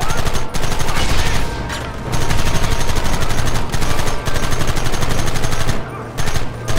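Mounted machine gun in Red Dead Redemption firing long rapid bursts, loud and close, a dense hammering rattle broken by a few short pauses, with shouting voices mixed in.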